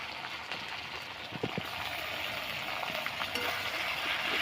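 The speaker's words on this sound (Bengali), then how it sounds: "ভালো করে ভেজে নেব।" Tomato, green chili and ginger-garlic paste frying in a pan, a steady close sizzle with faint crackles and occasional stirring taps, no talk.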